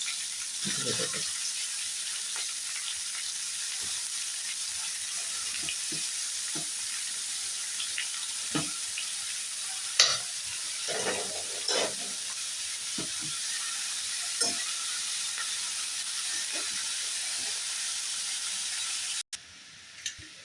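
Finely cut cabbage fries in hot mustard oil, giving a steady, bright sizzle and hiss with occasional pops and clinks, moderately loud and continuous.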